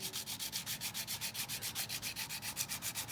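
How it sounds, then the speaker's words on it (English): Sandpaper wrapped around a flat wooden block rubs back and forth over a flat-head screwdriver shaft by hand, a close, steady rhythm of about seven strokes per second with no voices. "So you wrap the sandpaper around the sanding block, and you start to sand, keeping it nice and flat."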